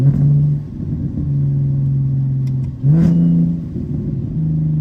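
Straight-piped big turbo BMW 335is engine revving up hard, a loud, close throaty drone that dips briefly, then surges again as the revs climb and hold steady.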